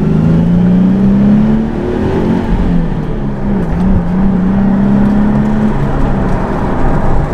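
A Nissan 370Z NISMO pulls away at night, its engine loud and near, the pitch climbing through a couple of rising pulls before holding a steady drone.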